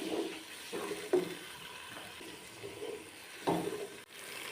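A little water goes into a pot holding ginger-garlic paste, bay leaves and black peppercorns for chicken pulao. The result is soft, faint splashing and sizzling in a couple of brief bursts.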